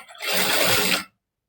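A sewing machine running a single top stitch on a princess-cut blouse, one steady, dense whirring run of about a second that stops abruptly.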